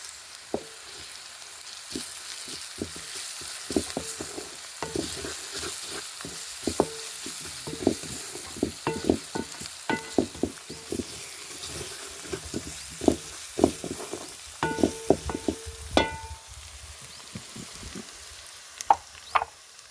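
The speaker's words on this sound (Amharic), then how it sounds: "እዚህ ጋር ቅመም ጨምራለሁ አብሮ ሲቁላላ ይጣፍጣል።" Spices sizzle and simmer in a pan for a red Ethiopian stew, a steady close hiss broken by frequent sharp clicks and scrapes of a spoon stirring against the pan.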